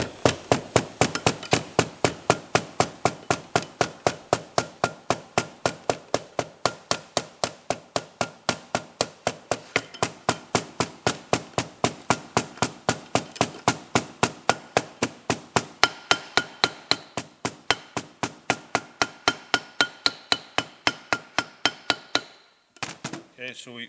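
A hammer gently taps an overdrive seal into place during a rebuild of a 1968-1980 MGB overdrive, a long run of dozens of sharp, evenly spaced metallic blows, close and steady, ending in a few quicker knocks.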